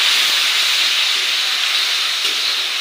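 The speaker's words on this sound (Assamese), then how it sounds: "এইখিনি অলপ ভাজি ল'ম" Ginger-garlic paste, cumin and chillies frying in oil in a pan for a fish curry, a loud steady sizzling hiss that runs unbroken throughout, with no voices.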